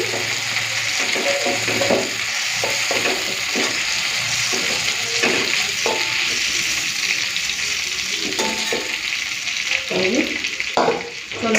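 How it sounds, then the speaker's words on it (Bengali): Shrimp sizzling steadily in hot oil in an iron wok, a loud continuous frying hiss with intermittent scraping and clinking of a utensil as the pieces are lifted out. "তো চিংড়িটা ভেজে নিয়েছি এখন তুলে নিচ্ছি"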